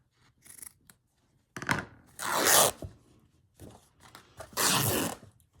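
A strip being torn off a bolt of calico fabric: two long, loud ripping sounds close by, each preceded by small handling rustles and snips.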